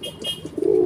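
A single Java pigeon hen coos close by, a soft low throaty call that swells into a sustained hum near the end.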